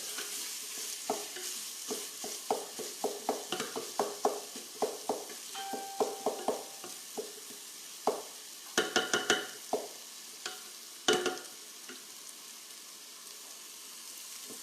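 Black sesame paste being stirred into dal in a pan, a run of close, quick scraping and tapping spoon strokes over a soft sizzle, with a few louder knocks near the end and no talk.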